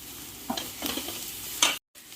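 Powdered ginger and garlic sautéing in a pan while making shark puttu, with a few soft stirring scrapes and a light sizzle, quiet and close, ending in a brief silence.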